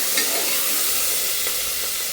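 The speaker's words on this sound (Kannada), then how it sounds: "ಸೊ ಸ್ವಲ್ಪ ಫ್ರೈ ಆಗಲಿ" Onion and curry leaves sizzle in hot oil, a steady, close hiss with light stirring throughout.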